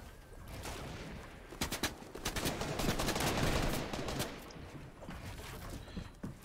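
Bursts of Fortnite gunfire crackle through the mix, scattered early and then packing into a dense volley of shots around the middle before thinning out, with steady game ambience underneath.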